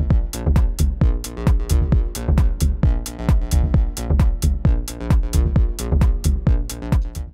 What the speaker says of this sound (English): So the first one, which is called square bass, and together with drums is going to sound like this.